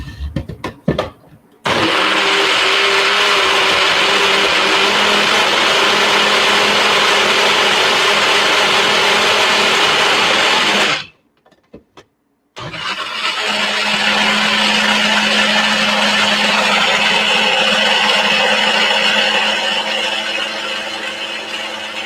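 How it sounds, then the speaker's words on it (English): A Magic Bullet blender whirs loudly and steadily after a few clicks, cuts off for about a second, then starts up again and keeps grinding at full speed to the end. "you can use any kind of blender to do this, but I prefer to use a magic bullet"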